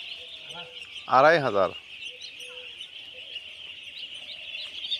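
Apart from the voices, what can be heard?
duckling flock on a duck farm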